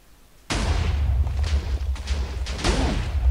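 Redstone cannon in a blocky sandbox game firing, a sudden loud blast followed by rumbling debris and a second explosion near the end, close and dominant with no talk.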